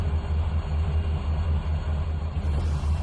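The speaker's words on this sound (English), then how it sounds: "Is that another train coming?" A train in Trainz 2019 gives a heavy, steady low rumble with a faint higher hiss above it, continuous and unbroken, with no one talking.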